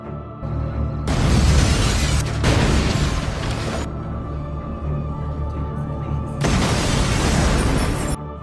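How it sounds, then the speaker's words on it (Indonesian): Several loud, deep bomb blasts burst out one after another inside a store in Kansas City, each followed by a rumbling roar and crackle that fades before the next explosion. "Tiba-tiba, beberapa bom meledak di toko tersebut."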